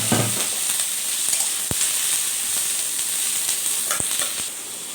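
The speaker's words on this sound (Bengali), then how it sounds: "এখানে আমার পেঁয়াজটা ভাজা ভাজা হয়ে গেছে" Onions fry in oil in a pan for mutton curry, a steady close sizzle with a couple of sharp taps of a utensil against the pan.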